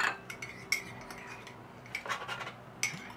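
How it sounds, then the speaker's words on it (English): Cooked microwave eggs go onto a plate with a few scattered clinks and scrapes of cutlery and dishware, fairly quiet and close, with no voices. "Let me put it on the plate so you can actually see."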